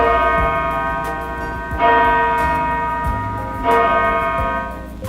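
A large bell rings out, struck twice with long shimmering decays, loud and resonant with rich sustained overtones.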